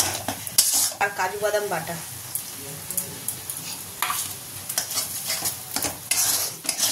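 Ginger, garlic, onion and green chili paste frying in a pan, with sizzling and repeated stirring scrapes and clinks of a utensil against the pan, while someone talks briefly over it.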